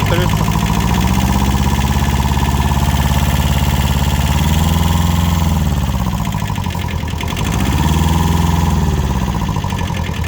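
A small two-cylinder Japanese mini tractor engine idles loudly and steadily up close, its low throbbing hum swelling slightly a couple of times.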